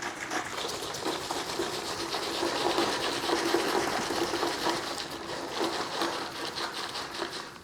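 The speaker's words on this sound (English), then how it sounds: "I'm gonna take my mop and I'm just gonna mix it a bit so that the soap dissolves evenly." A mop swishes and sloshes through a bucket of water to dissolve floor soap, producing a continuous, even wet churning at close range.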